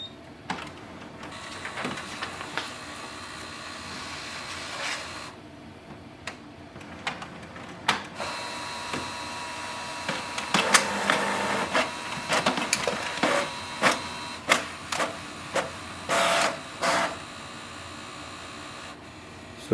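A Canon Pixma TR7820 inkjet printer makes a copy up close, giving mechanical whirs, clicks and ticking feed movements, then a run of rhythmic bursts of printhead passes, with no talking.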